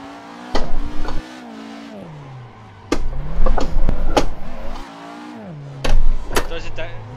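A car with a Toyota JZ engine revving in the Assetto Corsa racing game, rising and falling in several loud bursts with pitch sweeps between throttle blips and quieter idle gaps.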